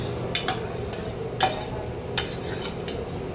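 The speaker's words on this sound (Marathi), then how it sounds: "तर डाळाची पळीने घोटून घेते" A metal ladle works through cooked dal in a pot, giving a few sparse, quiet scrapes and clinks against a low steady background, with no voices.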